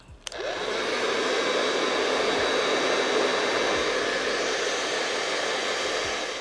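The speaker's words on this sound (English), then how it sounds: "I'm just going to use my blow dryer to just dry everything in place" A blow dryer drying edges and baby hairs on a wig, switching on with a click and then roaring steadily and loud up close throughout.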